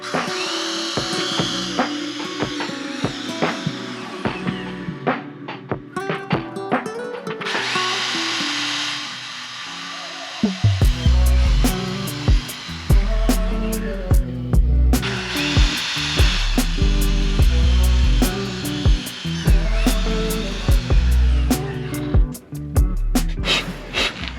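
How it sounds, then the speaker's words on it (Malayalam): An electric drill whines loudly in long bursts, stopping and restarting as it bores holes in a motorcycle underbelly, with clicks and clatter of handling between runs. "ലെഫ്റ്റ് സൈഡും കൂടെ നമ്മളൊന്ന് ഡ്രിൽ ചെയ്യും"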